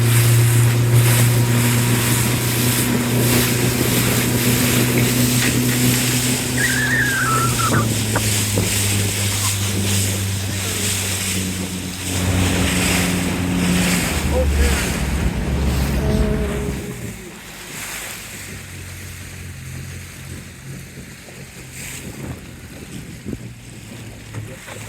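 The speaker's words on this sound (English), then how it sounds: "I love the big swells." Ocean waves and big, deep, widely spaced swells washing around a boat out on open water, with steady wind buffeting the microphone and a low engine-like drone through the first half before it eases to quieter surf.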